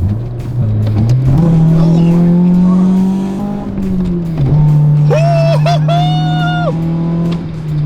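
A Honda Civic with new headers accelerates hard and close, its droning engine note rising through the gears. A brief higher squeal cuts in partway through.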